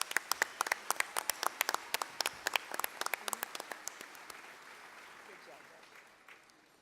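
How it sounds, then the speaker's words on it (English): A small group at a sports hall of fame tribute claps briefly, sharp individual claps that thin out and fade after a few seconds. "Wow, that deserves a round of applause."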